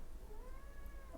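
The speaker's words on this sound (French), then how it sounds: "C'est mon chat." A domestic cat gives one long, drawn-out meow with a gently rising and falling pitch, fairly faint over a low background hum.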